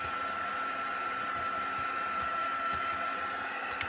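A hair dryer blows on wet paint over black gesso on an art piece, giving a steady, continuous whirring hum with a faint high whine, loud and close, unbroken throughout.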